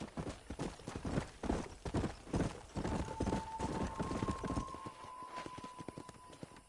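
A horse gallops in the video game Red Dead Redemption, its hooves thudding in a quick steady clip-clop that fades slightly toward the end, with a faint tonal hum in the background.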